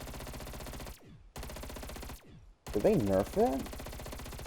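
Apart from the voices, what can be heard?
FFAR rifle firing in Call of Duty video game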